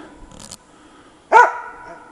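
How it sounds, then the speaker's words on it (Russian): A dog in the Russian taiga gives a single loud bark near the end, after a faint earlier yip, against otherwise quiet forest surroundings. "Опять наугад лают."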